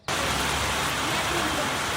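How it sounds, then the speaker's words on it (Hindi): Rain starts pouring outdoors just outside a house, a loud, even hiss of falling drops that begins abruptly and holds steady throughout. "गाइस जैसे ही हम घर से निकले बारिश स्टार्ट हो गई है।"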